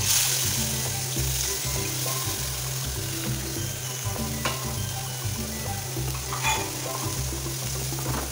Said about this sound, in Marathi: त्यानंतर आपण त्यामध्ये कांदा टाकणार आहोत